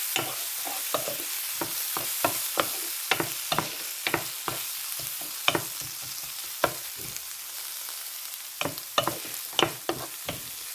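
Prawns and potatoes frying in a pan, a steady low sizzle punctuated by a regular series of sharp scraping stirs from a spatula, close and clear with no talking.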